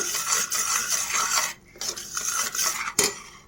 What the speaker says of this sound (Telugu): కొంచెం కొంచెంగా వేసుకుంటా కలుపుకోవాలి పిండిని, ఉండలు కట్టకుండా